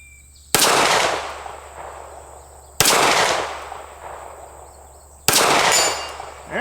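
Three loud, sharp pistol shots from a Springfield SA-35 Hi-Power, spaced a couple of seconds apart at an outdoor range, each ringing briefly with a lingering echo.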